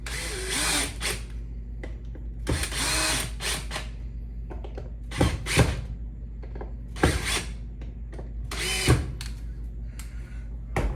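Power drill or driver working on a vintage-style Fender Stratocaster guitar, a series of short close whirring bursts separated by pauses and handling noise over a low steady hum.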